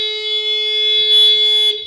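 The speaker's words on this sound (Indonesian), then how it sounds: "Nah, ini anti maling kalau bunyi." A Protech anti-theft alarm on a Yamaha Nmax motorcycle sounds, a loud, steady electronic tone close by that holds for almost two seconds and then cuts off.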